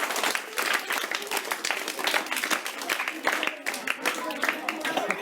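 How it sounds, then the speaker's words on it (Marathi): An audience at a village primary school ceremony for National Voters' Day applauds, giving dense, continuous clapping from many hands throughout, close and lively. "टाळ्या वाजवा सर्वांनी।"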